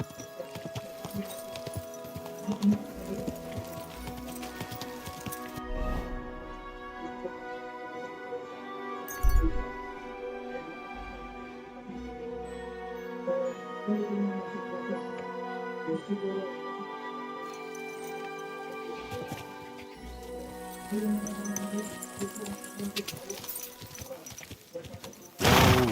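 Horse hooves clip-clop steadily in Kingdom Come: Deliverance II, under a sustained musical backdrop with occasional voices speaking.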